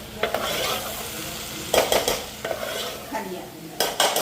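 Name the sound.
onions being tempered and fried in a pan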